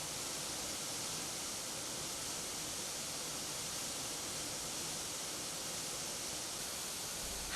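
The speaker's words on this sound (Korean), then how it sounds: "박연 폭포는 다른 폭포들보다 물이 떨어지는 속도가 빠르고 물소리 또한 굉장하며" Pakyon waterfall pours fast down a rock wall, a dense, unbroken rushing hiss that stays steady and even throughout with no other sounds.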